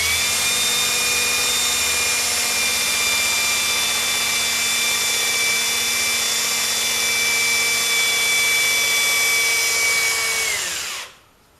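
A cordless power drill runs steadily while driving a bolt on a 1970 John Deere mower deck, a loud close whine held for about eleven seconds before spinning down abruptly, with no talking.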